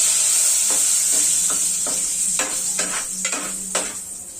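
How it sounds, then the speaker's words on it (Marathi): Cinnamon leaves hit hot oil in a pan for Malvani-style meat, giving a steady bright sizzle with several sharp crackling bursts and light stirring clinks. It is close and fairly loud, and no one talks. "आता मी तेल तापलेलं आहे, दालचिनीची पानं घालत आहे."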